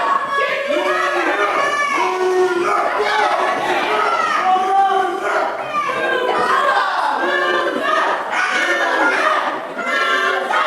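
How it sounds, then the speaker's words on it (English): A wrestling crowd at ringside shouts and chants loudly and continuously, a dense wall of overlapping voices with rising and falling surges. "The crowd letting them know how they feel."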